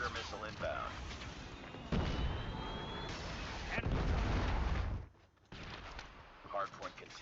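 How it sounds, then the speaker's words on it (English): A predator missile strike in Call of Duty Mobile during a Hardpoint match, loud sustained explosive roar and rumble amid ongoing battle noise, followed by a sudden drop and further scattered bursts, with voices talking throughout. "Predator missile inbound."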